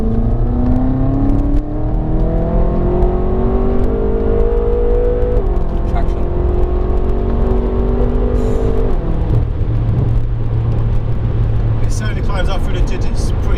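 A BMW F10 M5 engine pulls hard and steadily, its droning note climbing in pitch through the gears and heard from inside the car over constant road roar, with occasional voices.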